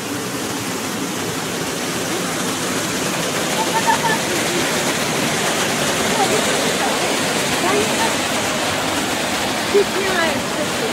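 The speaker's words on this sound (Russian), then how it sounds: "Ну вот, Витя пошел с Гали под водопад." Loud, constant roar of a waterfall at Gan HaShlosha park, a broad rushing wash of water that fills the whole scene without letting up.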